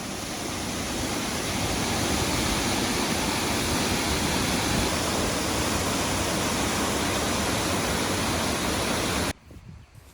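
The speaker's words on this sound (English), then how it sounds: "You'll spot the waterfall as you head down the stairs. It was roaring when I visited" A roaring waterfall in Northland, New Zealand, as heard from a viewing platform: a dense, loud, unbroken rush of falling water that holds steady for most of the clip before cutting off abruptly near the end.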